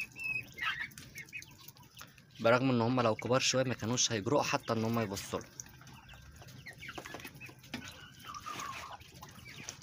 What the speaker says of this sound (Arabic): شايفين فراخ الفرعوني بتضربهم ازاي